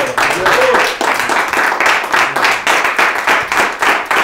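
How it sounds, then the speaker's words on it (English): An audience applauds steadily in a church or hall setting, with dense rhythmic clapping that stays loud throughout, while a voice carries over the top of it. "Let's give Dr. Lerner a round of applause."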